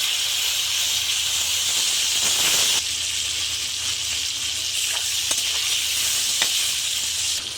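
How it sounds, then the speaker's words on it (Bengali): Tomato sizzling in hot oil for a fish curry with cauliflower, a loud, dense, hissing fry that stays constant and close throughout, easing slightly after the first few seconds. "তেল গরমে টমেটোটা দিয়ে দিলাম।"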